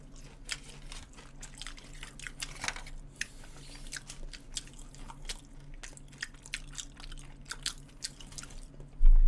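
Someone eats a McDonald's signature burger, with close, wet chewing and biting sounds and small squishes repeating steadily, alone without talk, ending in a louder bump.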